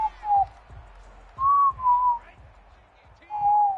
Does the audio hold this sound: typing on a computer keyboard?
no